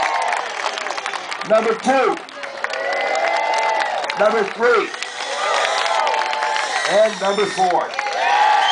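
A crowd at a pig race cheers and applauds in a continuous roar while an announcer calls out numbers over it, with bursts of whoops and shouts.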